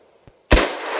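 A single sharp rifle shot, 6.5 Creedmoor or .308, fires over a chronograph outdoors, preceded by a faint click and followed by a loud, lingering blast tail.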